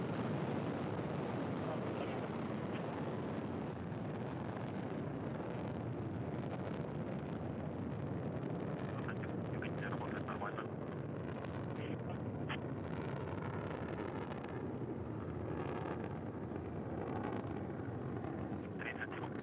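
Soyuz TMA-14M rocket with four boosters and a single engine roars at liftoff, a broad, continuous rumbling blast that holds steady throughout, heard from a distance.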